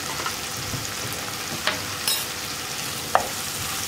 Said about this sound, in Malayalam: മുളക് പൊടി ചേർത്തിട്ട് നന്നായിട്ടൊന്ന് ഇളക്കി മിക്സ് ചെയ്യുക